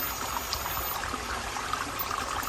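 A small garden waterfall in a subtropical garden trickles and splashes steadily, a continuous close babble of falling water with no voices.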